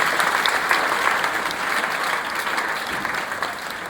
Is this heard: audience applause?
yes